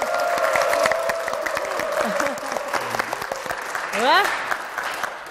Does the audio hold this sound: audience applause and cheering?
yes